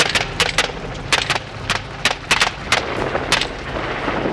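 A rapid series of sharp gunshots fired from a helicopter at feral hogs in Texas cracks out over a constant low rotor drone, irregular and loud, with no talking.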